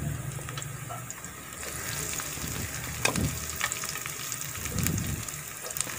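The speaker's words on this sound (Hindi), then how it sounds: "पहले प्याज थोड़ा डालेंगे, इसको हल्का सा मिक्स करने के बाद फिर इसमें शिमला मिर्च डाल देंगे।" Onion fries in a pan with a soft steady sizzle while it is stirred, with brief scraping bursts of spoon against the pan, fairly quiet and close, with no talk.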